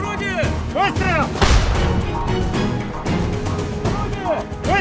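A Russian artillery gun fires a single heavy, booming shot in the open air. The blast lands partway through, amid continuous voices and other battlefield noise.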